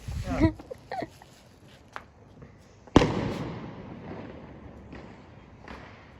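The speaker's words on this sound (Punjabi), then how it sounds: "ਇਹ ਆ ਪਟਾਸ ਤੇ ਆਪਣੀ ਮੰਮੀ ਡੈਡੀ ਚਲਾਉਣ ਲੱਗੇ ਨੇ" A firecracker is set off outdoors at night for Vishwakarma Day: a few small pops and thumps, then one sharp, loud bang that decays slowly, with a fainter crack later, among people talking.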